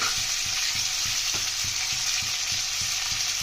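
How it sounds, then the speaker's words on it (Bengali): Chopped onion and tomato frying in a pan, a dense, steady hiss of sizzling oil with faint regular tapping beneath, constant and close with no voices. "পেঁয়াজটা একটু নেড়ে চেড়ে নিয়েছি টমেটো কুচিটা দিয়ে দেবো"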